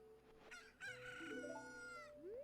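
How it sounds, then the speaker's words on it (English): A rooster crows in the Nintendo game The Legend of Zelda: Ocarina of Time, one clear, drawn-out call rising and falling at moderate loudness, followed by a short upward sweep. "It's crowing, so it's a rooster."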